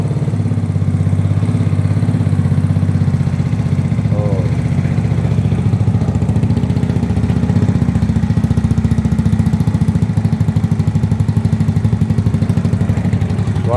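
A motorcycle, kick-started without its battery fitted, idles steadily and loudly up close, its even engine chatter continuing throughout with no talking.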